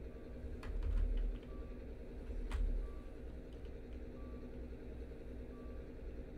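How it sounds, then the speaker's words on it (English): A boat's collision warning in the Stormworks video game repeats as evenly spaced electronic beeps, four or five in all, faint over a low, steady engine rumble. "I think that's a boat collision warning."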